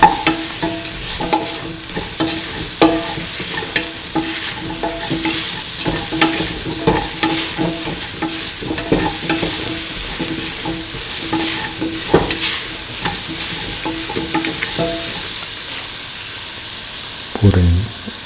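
A spoon stirs salt through potato and soy chunks in a hot pan, a steady sizzle and frying hiss running throughout with repeated scraping strokes, close and fairly loud, no voices.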